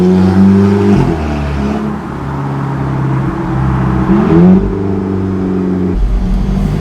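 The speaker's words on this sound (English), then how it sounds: "the beautiful exhaust notes coming just from your back" An Alfa Romeo 4C Spider's mid-mounted engine and exhaust rev loudly up close, rising and falling through several surges with a throaty burble between them.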